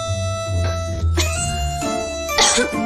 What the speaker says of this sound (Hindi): अभी जो इसने पिया उसे इसे खांसी आ गई।